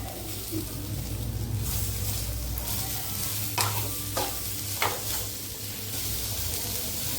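Tomato frying in a pan with salt, dried red chillies already in the oil, giving a steady close sizzle with a few sharp scraping stirs of a spatula partway through.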